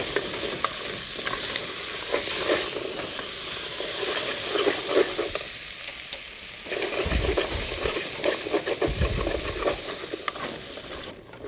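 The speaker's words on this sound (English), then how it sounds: "We're going to saute all these vegetables together for about 5 minutes" Vegetables and spices sauteing together in a pan for Indian soup, a steady close sizzle and hiss broken by stirring scrapes and occasional louder bubbling bursts, with no voices.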